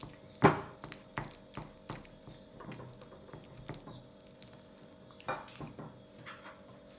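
Room-temperature butter mashed in a bowl for crumbly simit dough: a sharp knock, then scattered clinks and scrapes of utensil against the bowl, close and fairly quiet, with no voices.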